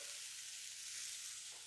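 Halved onions cook cut side down in a preheated cast iron pan, a quiet, even, continuous sizzle that stays steady throughout with no talk.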